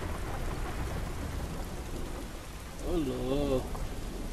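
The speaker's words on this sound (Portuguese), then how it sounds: "Acho que tá chovendo, né?" Steady hiss of heavy rain with low rumbling thunder underneath in the video game The Last of Us, and a person briefly exclaims over it toward the end.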